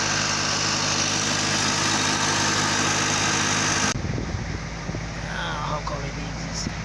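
The A/C compressor of a 2013 Kia Sorento runs with a steady mechanical hum, close and constant, which cuts out abruptly partway through and leaves a quieter engine drone with some faint rustling.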